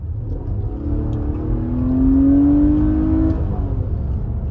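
A Toyota Highlander in sport mode accelerates from inside the cabin, its engine note climbing in pitch and loudness to a peak near the middle before easing back into a steady road hum, with no talking.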